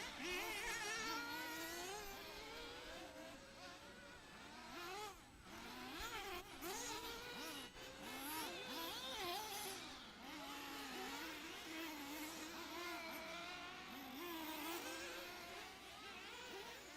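Intermediate nitro RC buggies race around a track at Oakland Mills, PA, their high-pitched two-stroke engines whining, rising and falling continuously as several cars pass at middle distance, fairly faint overall.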